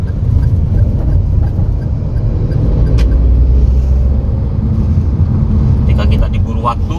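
A Daihatsu Rocky with a 1000 cc three-cylinder turbo engine drones steadily from inside the cabin, a constant low engine hum with some wind noise and a brief click partway through.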